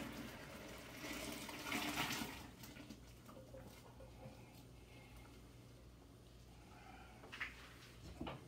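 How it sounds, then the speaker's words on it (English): Pasta water for linguine drains into a sink, a soft rushing pour that swells, tapers off and leaves a faint trickle, quiet and somewhat distant with no talk. "Drain the pasta water."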